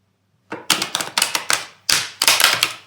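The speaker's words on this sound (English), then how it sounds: "let's shuffle my cards" Large, oversized tarot cards shuffled by hand: a quiet start, then a quick run of sharp, crisp riffling slaps and taps in two bursts, close and dry with no talking.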